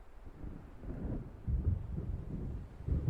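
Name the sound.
thunderstorm in the video game Alan Wake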